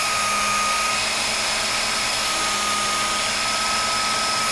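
A Darex Work Sharp knife and tool sharpener hones a knife on a 6000 grit belt, giving a constant loud motor whir with a thin, steady high whine that does not change throughout.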